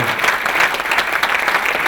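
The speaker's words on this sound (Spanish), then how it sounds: "yo quiero pedir para la hermana Guadalupe un fuerte aplauso" An audience at a gathering about the situation in Syria applauds Sister Guadalupe, a full, steady burst of clapping heard up close with no talk over it.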